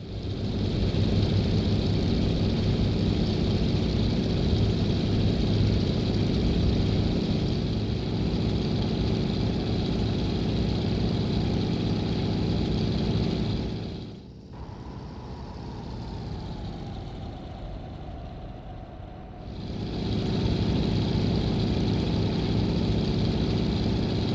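A general aviation plane's engine runs steadily in X-Plane, a continuous loud drone with a brief dip and quieter stretch midway before returning to full level, with no voices.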